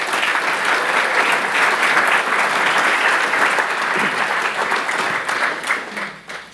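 A conference audience applauds its panelists with steady, dense clapping that fills the room for several seconds before tapering off near the end.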